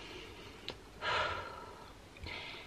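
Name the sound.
deep breaths taken together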